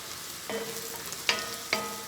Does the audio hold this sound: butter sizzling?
yes